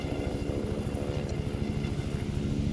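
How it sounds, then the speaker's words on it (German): Helicopter in the video game The Division 2, a loud steady rotor thump with a rapid, even beat and a broad engine whine, sustained throughout with no talking. "Ein Helikopter! Helikopter,"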